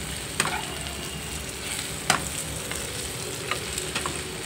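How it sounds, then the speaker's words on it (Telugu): Raw banana pieces fry with turmeric powder in a pan, giving a steady sizzle with a few sharp scraping stirs at intervals; no one speaks. "బాగా వేయించుకోవాలండి. రోస్ట్గా వేయించుకోవాలి."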